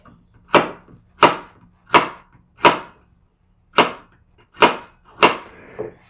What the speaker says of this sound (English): we need to slice these bad boys into thin slices